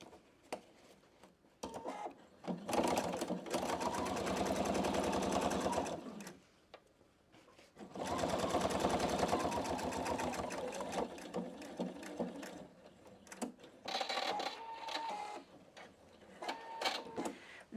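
A PFAFF Expression 720 sewing machine stitches the side seam of a stiff interfaced fabric pouch, running in two long steady bursts with short pauses and a few brief stops and starts near the end, close and clear with no talk.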